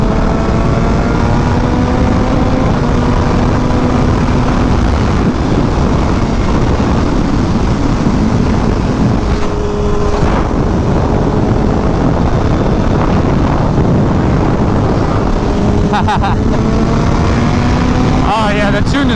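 A sport bike with a nearly full aftermarket exhaust system and no tune idles and runs steadily and loud close by, a constant engine drone with slight pitch shifts throughout, at a car meet.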